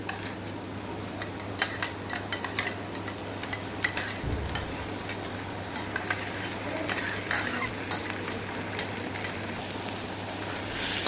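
Onions and ground tomatoes frying with red chili in a tempering for aloo baingan sabzi, a steady close sizzle punctuated by repeated clicks and scrapes of a spoon stirring the pan.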